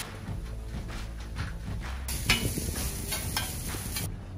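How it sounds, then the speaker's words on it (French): Onions fry in olive oil on a hot plancha, a steady close sizzle with scraping stirring strokes that grows brighter and louder partway through. "Alors notre plancha est bien chaude, je vais pouvoir mettre un beau filet d'huile d'olive. Nos oignons vont pouvoir cuire"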